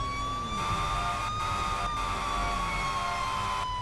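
Fire truck siren from GTA 5 wails loud and steady throughout, a continuous rising-and-falling tone over low engine rumble, with brief dropouts, no voices.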